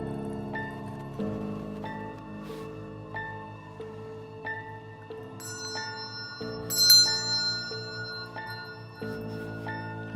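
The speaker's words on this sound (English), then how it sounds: "A bell." A Spirit Bell magic prop rings in a series of clear metallic tones, several struck notes overlapping and decaying, close and moderately loud with a brighter ring near the middle, no talking.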